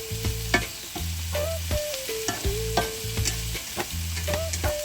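Garlic frying gently in a pan over low heat, a soft continuous sizzle broken by repeated rhythmic scrapes and taps of a spoon stirring, and no talking.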